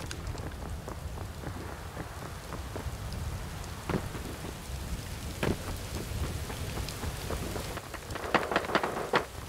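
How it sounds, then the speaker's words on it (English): Steady rain and rolling thunder in the video game Ring of Elysium form a dense, continuous wash with several sharp cracks and a heavier burst toward the end, with no voices. "Oh, it's raining."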